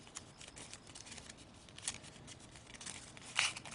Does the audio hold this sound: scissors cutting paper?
yes